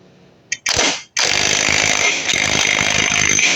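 An impact wrench tightens the 24mm clutch nut on a Dominar 400 motorcycle: a short rattling burst, a brief pause, then a long loud continuous hammering whir, close up.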